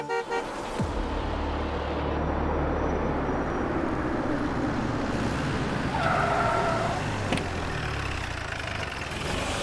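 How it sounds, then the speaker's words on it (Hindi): A car pulls up on a street with tires skidding and a short horn toot, engine noise continuous and loud throughout, no talk. "ये तो जगताप की गाड़ी है"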